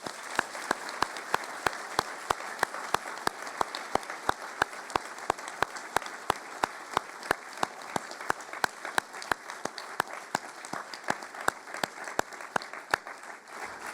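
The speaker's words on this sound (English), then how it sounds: "Please join me in a round of applause for all our speakers, past and present" A lecture audience gives a long round of applause for the speakers, dense crowd clapping that runs steadily for the whole stretch with occasional sharper claps near the front, and no talking over it.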